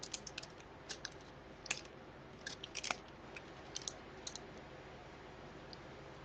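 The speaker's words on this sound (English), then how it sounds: "I got some gold, so I'll just cut a couple of those little" Scissors snip gold paper in short, soft, close cutting clicks scattered irregularly over a quiet background.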